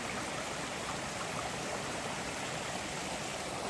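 A stream along the Appalachian Trail where a hiker stops to collect water, a faint, steady rush of flowing water that holds constant throughout, with no voices.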